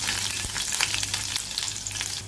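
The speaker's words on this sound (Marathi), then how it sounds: "तेल तापले, तेलामध्ये लसूण परतून घ्यायचा गुलाबी होईपर्यंत।" Garlic fries in hot oil with a dense, continuous close-up sizzle and faint crackles, heard alone.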